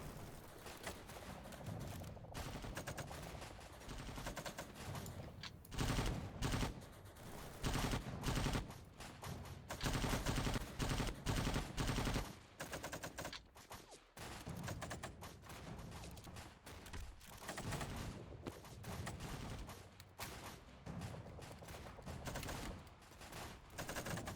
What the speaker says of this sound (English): I'm in an entrenched position with a belt-fed machine gun. I should be ripping them to shreds.